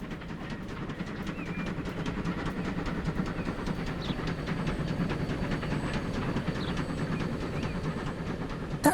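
Trains rumble along in Transport Fever 2, a steady low clattering roll with hiss and faint metallic clicks throughout, ending in a brief louder knock.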